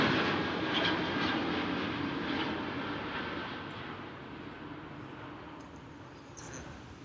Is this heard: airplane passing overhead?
yes